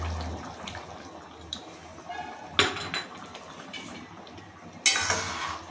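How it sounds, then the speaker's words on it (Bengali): A metal lid set back onto a pan of egg and potato cooking on the stove: sharp clanks and a rattling clatter of metal against metal over a low sizzling kitchen background, with no talk. "এদিকে এটা হতে থাকবে, আমি আবার চাপা দিচ্ছি"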